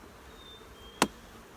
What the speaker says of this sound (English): Shake of bees